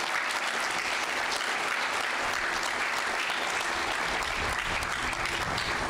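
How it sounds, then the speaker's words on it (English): An audience gives a sustained round of applause for a sergeant being honoured, dense and even clapping at a loud, constant level throughout. "Round of applause, please."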